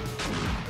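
A short burst of gunfire from machine gun turrets during a 7 Days To Die horde night, a rapid rattling crack lasting under a second.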